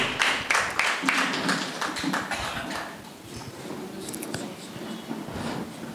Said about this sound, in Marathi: जोरदार टाळ्या वाजवून त्यांच्या कार्याला आपण बळ देऊया